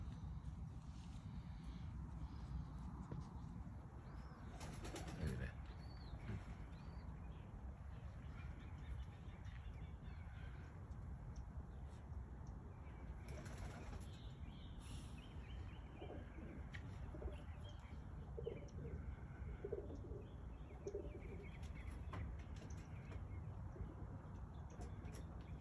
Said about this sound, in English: But there go my birds. They always take that same route.